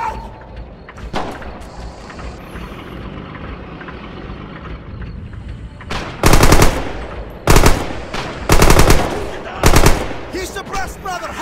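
Machine-gun bursts ring out in the Red Orchestra 2 war game. Several loud, close rapid-fire volleys come in separate bursts over a rumbling battlefield, with shouting voices mixed in.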